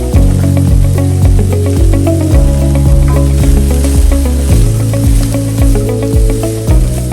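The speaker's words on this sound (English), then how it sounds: "start cooking the veggies, beginning with the onions, which we want to cook for about 3 minutes" Onions and other vegetables fry in a hot pan with a loud, continuous sizzle, close up, steady throughout with a faint repeating tonal hum underneath.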